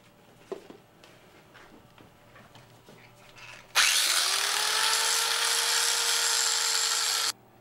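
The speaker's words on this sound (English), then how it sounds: "I'm going to take off all the zinc plating off the end of the bolt" A grinder takes zinc plating off the end of a bolt for a go-kart build: a few scattered clinks and handling sounds first, then a loud, steady, high-pitched grinding whine that runs for about three and a half seconds and stops abruptly.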